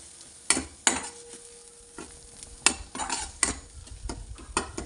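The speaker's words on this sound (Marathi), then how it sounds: "आपण आता हे मसाले परतून घेणार आहोत." Spices for masala methi being stirred and sautéed in hot oil, with a steady sizzle broken by several sharp spoon scrapes and clinks against the pan, close and fairly loud.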